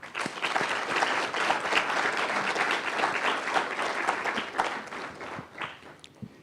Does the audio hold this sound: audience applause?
yes